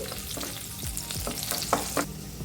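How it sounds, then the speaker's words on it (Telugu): Thinly sliced garlic fries in oil in a pan, a soft, steady sizzle with several distinct scraping stirs of a spoon against the pan, close and quiet with no talking. "సన్నగా కట్ చేసుకున్న వెల్లుల్లి వేసుకోవాలి వెల్లుల్లిని కాస్త పచ్చివాసన పోయేంత వరకు ఫ్రై చేసుకోవాలి"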